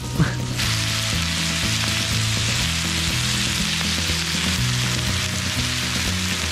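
Onion sizzling steadily in an oversized pan while cooking outdoors at a forest bivouac in below-freezing weather, a loud continuous frying hiss throughout with no talk.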